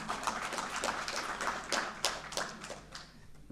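An audience at a trust's award ceremony applauds the trustees, a steady wash of scattered hand claps from a moderate crowd, fairly soft and without speech.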